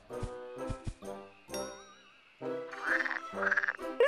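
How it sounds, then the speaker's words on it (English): Cartoon frog croaks in a few bouncy, cartoonish bursts, with chime-like jingles and comic sound effects around it, loud and close with no talk over it. "It's a frog!"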